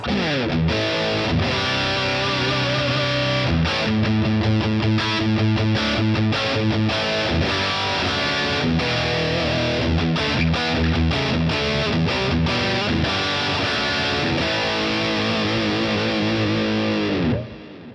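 Crunchy, overdriven electric guitar riffing on the bridge pickup through a Boss Katana 100 amplifier's crunch channel, with gritty distortion, played loud and continuous for several seconds before cutting off.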